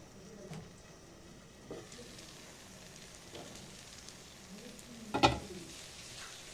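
Spices fry in a little oil for ghughni, making a quiet low crackle broken by a few soft stirring knocks and one sharper clatter near the end.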